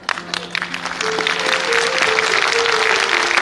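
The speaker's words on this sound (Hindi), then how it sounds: "आपकी तालियां ही मेरा पारिश्रमिक है" Audience applause during a Kumar Vishwas speech builds and holds steady, a dense wash of many hands clapping with some faint musical tones underneath.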